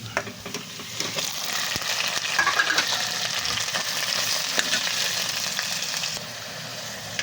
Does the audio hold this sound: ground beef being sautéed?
yes